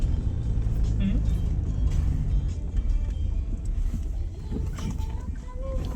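Rumbling engine and rattling of a car jolting along a rough, muddy hill road, with people talking inside over the continuous drone.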